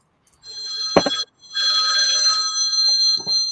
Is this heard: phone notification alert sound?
yes